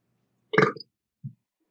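A single short burp on command, close and fairly quiet, followed a moment later by a smaller low belch.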